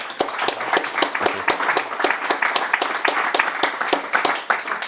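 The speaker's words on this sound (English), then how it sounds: "let's give Adrian a big round of applause." An audience at a talk applauds steadily throughout, a dense patter of many hands clapping at fairly close range, with no voices standing out.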